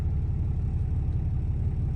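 A Ram 6.7 Cummins diesel in a fourth-generation truck idles down after a run, giving a steady, even low rumble close by with no speech over it.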